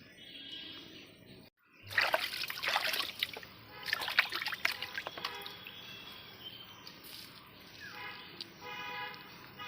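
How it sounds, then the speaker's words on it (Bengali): Water being strained off soaked rice for Bengali panta bhat trickles and splashes in uneven bursts after a brief silence, with sloshing and dripping that fade to a thin trickle, close and fairly quiet. "জলটা ছেঁকে নিচ্ছি।"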